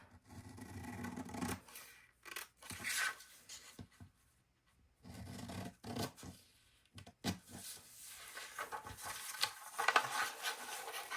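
Fabric scissors snip and slide through a paper sewing pattern along drawn lines for a princess-seam bodice, with soft, quiet, irregular cutting and rustling strokes broken by short pauses.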